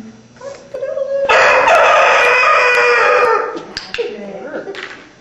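A rooster on a rural property that was once pasture lets out one loud, drawn-out crow close by, with brief sounds of people talking before and after.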